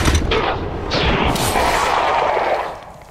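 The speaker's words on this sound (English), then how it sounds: "All my guys will take their Overwatch shots." Overwatch gunfire from soldiers in XCOM 2: a heavy opening blast followed by further booming shots and crashes rolling together, loud and reverberant, fading out at the end.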